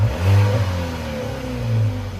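A 2011 VW CC R-Line with a 2.0 turbo engine and its rear muffler deleted, revving in two short blips with a quieter dip between them, heard close and alone.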